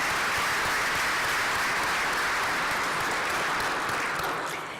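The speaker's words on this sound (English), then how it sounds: "let's give them one final round of applause" A banquet audience at an engineering alumni awards dinner gives a final round of applause, a loud, even roar of many hands that holds steady and begins to fade at the very end.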